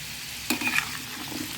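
Pieces of sweet pumpkin sizzling in hot oil in a pan, a soft steady fry with a brief louder crackle as they are stirred, close and faint.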